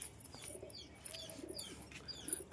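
Soft pigeon cooing and faint chirps over a quiet background, a few brief calls spread across the moment with no talking.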